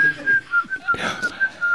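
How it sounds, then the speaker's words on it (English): A person whistles indoors, a steady, slightly wavering tune broken into short repeated phrases, with a low murmur of background noise and a brief burst of rustling midway. "Is somebody else in this room whistling?"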